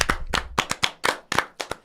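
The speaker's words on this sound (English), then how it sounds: "That deserves an applause." A small group of people clapping by hand in a short round of applause, with about nine separate distinct claps spaced unevenly over two seconds, close and fairly loud with no talk over it.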